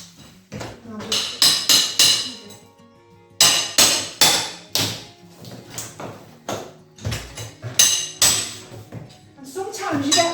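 Hammer blows bash at fixings in a plaster wall to work them loose, sharp close metallic strikes landing in quick bursts of three to five with short pauses between, a voice talking faintly in the gaps.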